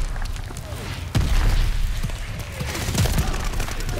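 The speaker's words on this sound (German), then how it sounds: "aber alles explodiert" Repeated booming explosions and mortar thuds burst through a noisy battle mix in Call of Duty: Vanguard, with faint voices in the background.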